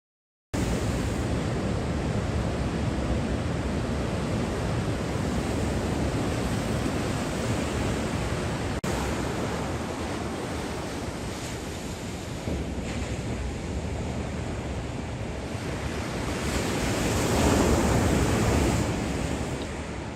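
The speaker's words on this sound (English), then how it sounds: "often big back waves, as you can see coming right there" Ocean surf pounds at a Mexico surf spot, a continuous loud roar of breaking waves with heavy wind rumble on the microphone, swelling slightly louder near the end.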